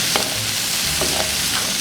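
Carrot pieces stirred into onions frying in a pot, a steady close sizzle with a few soft scraping stirs, no talk.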